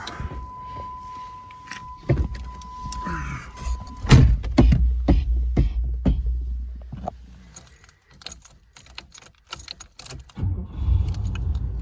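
A 1987 Cadillac Brougham cranks over in freezing cold, keys jangling first, then the engine turns and catches into a loud, low rumbling idle that fades back behind rattles and small clicks near the end.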